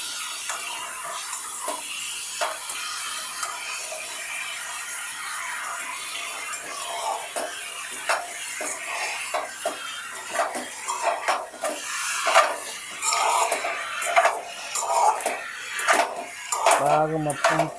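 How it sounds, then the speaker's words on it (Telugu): Brinjal pieces stirred with masala in a metal pan, heard as a long run of close scraping and clinking of a spoon against the pan, growing busier and louder toward the end. "ఒకటికి 2 సార్లు మొత్తం ఒకసారి మిక్స్ చేద్దాం. ఆ మసాలా మొత్తం వంకాయలకి పట్టిద్దాం."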